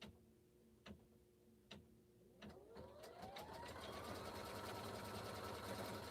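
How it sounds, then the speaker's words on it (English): A quilting embroidery machine sews a placement line on fabric held in its frame, first with a few separate ticks and then with a fast, steady mechanical stitching hum that runs to the end. "It's stitching a placement line to tell me where to place this first fabric I'm about to put down."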